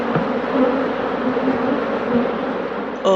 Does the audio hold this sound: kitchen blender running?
no